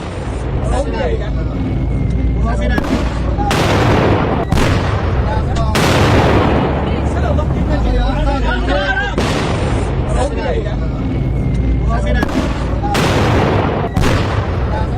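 Repeated heavy blasts and booms from an airstrike on the city of Isfahan crash out one after another, loud and chaotic, with a voice heard talking through the noise.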